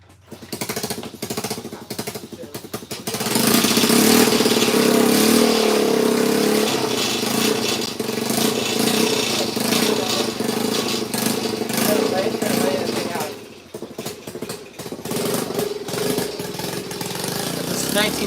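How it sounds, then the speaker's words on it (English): A 1975 Honda Z50 minibike engine runs loud and rough nearby, its buzzing rising into sustained revving for most of the stretch, dipping briefly before picking up again. "This is 1975 Honda Z50 you guys hear back there"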